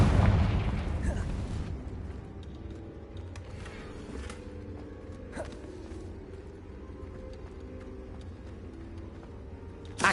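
A Confringo fire spell explosion in the video game Hogwarts Legacy opens with a heavy, booming blast that decays into rumbling debris. Faint pops and crackles follow over a steady low background.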